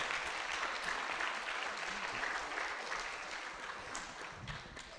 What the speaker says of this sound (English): Let's give a round of applause to Minister Airlangga Hartarto